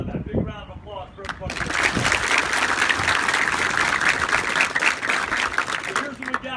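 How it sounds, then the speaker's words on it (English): Loud, sustained applause from a large crowd at a football event fills the space for several seconds after a brief opening shout, steady clapping with a roaring, wash-like texture. "Big round of applause for"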